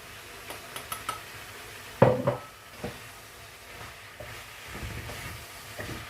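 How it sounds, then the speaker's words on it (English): Spoon scraping and knocking against a pot while chopped vegetables are stirred, with scattered clinks and one sharper clatter over a faint hiss, fairly quiet and close with no voices. "Give it a little stir."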